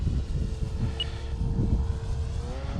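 An RC trainer airplane at about half throttle drones at a moderate distance, a fairly faint, steady electric-motor hum with a thin whine that shifts slightly in pitch.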